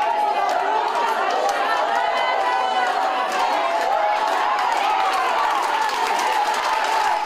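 Teachers at a municipal council session in Francisco Beltrão jeer as councillors leave: a sustained crowd din of shouting, chatter and scattered claps, steady and fairly loud throughout, with voices mixed in.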